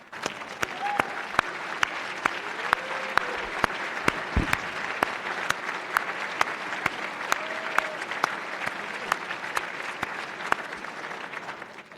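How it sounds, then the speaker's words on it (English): Sustained applause from a seated audience at a Class of 2023 induction ceremony, honoring the sponsors who nominated new members; steady dense clapping fills the whole stretch with a few louder sharp claps standing out, and faint voices murmur beneath. "I do want the sponsors of our new members who nominated the members to please stand also so we can give them a round of applause"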